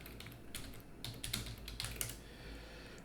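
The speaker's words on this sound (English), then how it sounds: "You can just type in record keeping." Typing on a computer keyboard to enter a search, heard as bursts of quick clicking keystrokes, close and moderately loud, with no talking.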